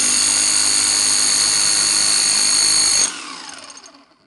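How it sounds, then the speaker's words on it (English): A Bosch GBH 5 DCE SDS Max hammer drill hammering at full speed during a repair test, a loud steady high-pitched buzzing rattle for about three seconds that then cuts off and winds down into a fading whir. "Okay, it hammers, making the maximum speed."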